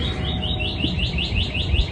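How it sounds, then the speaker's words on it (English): A bird calling in a garden by an orchid pergola, a rapid, steady series of repeated high chirps, about eight notes a second, over a low outdoor background hum, with no talk. "there's a bird that really wants to come out on the video, at least the audio"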